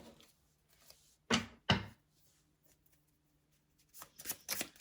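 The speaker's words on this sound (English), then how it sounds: "let's pull some cards" Tarot-style cards shuffled and drawn for a spirit reading: two brisk riffling bursts near the start, a quiet pause, then a flurry of softer card slaps and slides toward the end, close and fairly soft.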